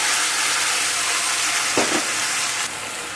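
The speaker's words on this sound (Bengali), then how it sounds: "এখানে মশলাকে আমি ভালো করে কষিয়ে নেব" Spice paste frying hard in a pan, a dense steady sizzle broken by a couple of scraping stirs, close and loud, with no voices.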